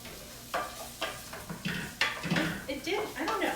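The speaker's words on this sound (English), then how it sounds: "It's still making a sizzling sound." Risotto rice toasting in a pan as it is stirred, with scraping clinks and knocks of the spoon over a light sizzle, while a person talks throughout.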